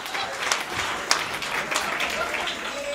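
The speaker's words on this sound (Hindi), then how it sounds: "हाथ उठा के ताली बजाई जोरदार एक बार।" Hindi comedy poetry gathering audience clapping in a steady, dense patter of many hands, moderately loud, with a few sharper claps standing out and faint voices underneath.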